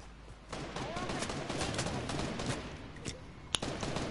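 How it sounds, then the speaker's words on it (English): Gunfire in the video game Fortnite, a dense burst of rapid shots at moderate distance with a sharper crack near the end and no one talking. "Gunshots."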